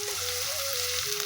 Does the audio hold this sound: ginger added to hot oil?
yes